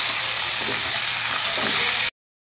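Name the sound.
vegetables and potatoes frying in a pan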